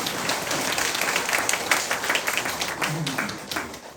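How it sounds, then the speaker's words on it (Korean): A church congregation applauds together during a Saturday prayer service, a dense, fairly soft patter of many hands clapping that lasts several seconds. "우리 박수 한번 쳐야 돼요."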